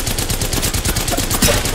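Rapid automatic gunfire in the battle royale video game Apex Legends, dense continuous bursts of shots up close and loud throughout the short clip, with no talking.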